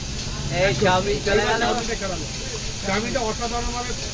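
Fish fried in hot oil at a long-running street food stall, with a steady sizzling hiss under someone talking nearby.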